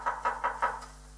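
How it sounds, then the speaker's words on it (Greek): Knuckles rap on a door in a Greek Karagiozis shadow-puppet show, five quick, evenly spaced knocks, close and clear, the last one softer, with no talk over them. "Για να χτυπήσω εδώ την πόρτα."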